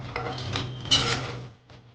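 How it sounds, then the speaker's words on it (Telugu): A spoon scraping and clinking in a pan while jaggery-coated wheat flour kommulu are stirred, with short metallic rattles and rubbing over about two seconds that fade near the end. "ఈ బెల్లం ఆ కొమ్ములకి మొత్తానికి పట్టేటట్టుగా బాగా కలపండి."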